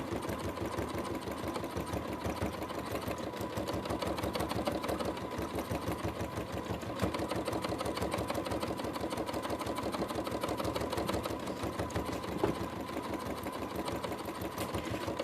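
A sewing machine stitches long flowing lines across fabric for a horse collage, a continuous quiet rapid clatter at an even pace with no pauses.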